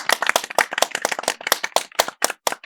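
A small group claps at a basement benefit show, sharp close-up claps in a quick, uneven rhythm, clear and without talk over them, lasting a couple of seconds.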